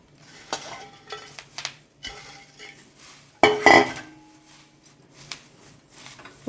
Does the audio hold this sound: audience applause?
no